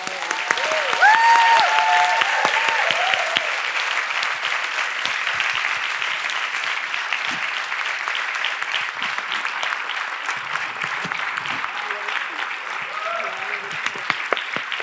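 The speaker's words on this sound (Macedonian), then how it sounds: "уште еднаш еден аплауз на вистина" Audience applause after a storytelling evening at the ПичПрич 2024 event, a sustained dense wash of clapping lasting the whole stretch, loud at first and easing slightly, with faint voices and a few whistles or calls rising above it early on.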